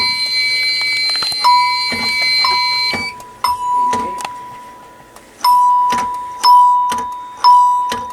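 An alarm bell rings in repeated clanging strokes, some overlapping, with a steady tone lingering between strikes, loud and near.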